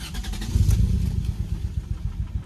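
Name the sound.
Lexus SC300 engine cranking and starting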